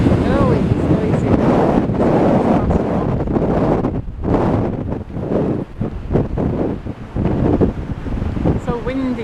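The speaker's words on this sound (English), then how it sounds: "It's so windy, guys." Strong gusting wind buffets the microphone on the Blackpool seafront at high tide, loud roaring rumble with surf beneath and a voice briefly audible through the noise.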